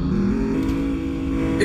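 Engine of a car in the driving game Ultimate Driving drones and revs steadily at close range, a continuous tonal motor note with slight pitch shifts and no talking.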